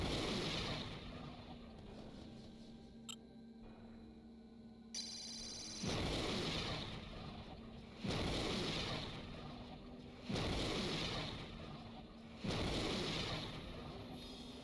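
Group fire from a mech's weapons in the Heavy Gear game, a series of four loud, evenly spaced heavy booming bursts, each sustained for about a second and a half and separated by quieter rumbling gaps.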